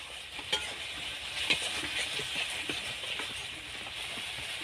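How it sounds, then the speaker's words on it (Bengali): Spatula stirring masala with coriander in a pan for a potol and soybean curry, soft scrapes and clinks over a low frying sizzle, close and fairly quiet. "আবার আর একটু নেড়ে নেব।"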